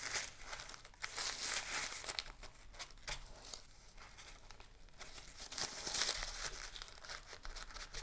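A paper towel is crumpled and dabbed against wet paint, giving soft, irregular crinkling and rustling bursts that come close and quiet, with no talking.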